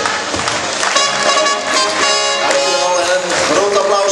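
Audience at a children's circus performance at a school in Oude Pekela applauds loudly and steadily, a dense close wash of clapping with some crowd noise mixed in, no voices standing out.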